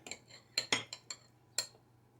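A metal spoon clinking and scraping against a dish of homemade keto beef stew, with about half a dozen light, close taps and scrapes over two seconds in a quiet room.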